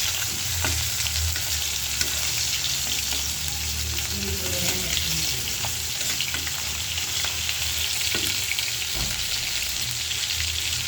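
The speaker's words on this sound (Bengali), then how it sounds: "এখানেও মাছগুলো প্রায় আমার ভাজা হয়ে গেছে।" Fish frying in a pan sizzles steadily throughout, a dense crackling hiss with occasional pops and stirring sounds, close and continuous.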